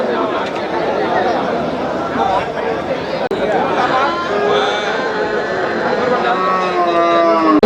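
Cattle low repeatedly at a crowded livestock market in Melapalayam, with long tonal moos rising over steady crowd chatter and people talking nearby throughout.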